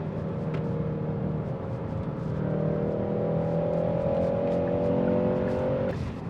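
A 2025 Hyundai Sonata N-Line accelerates onto an interstate in Sport Plus mode. Heard from inside the cabin, the engine drone climbs steadily in pitch under road noise, then eases back near the end.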